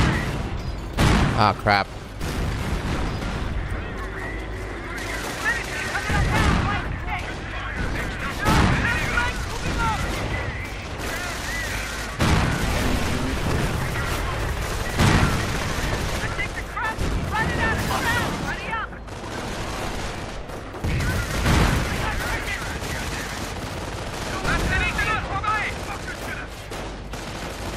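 Battle in Company of Heroes with a Panther tank attacking: dense gunfire, machine-gun bursts and heavy explosion booms roll on continuously and loud, with a person speaking briefly over the din.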